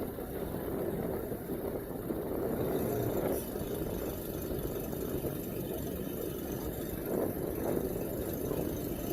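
A 2008 North River 25 partial hardtop boat's engine runs with a steady low drone, moderately quiet and continuous, with faint background noise.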